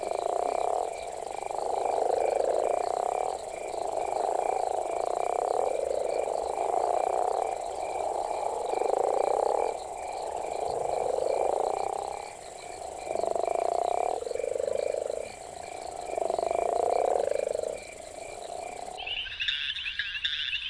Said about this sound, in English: frogs vocalize to call for mates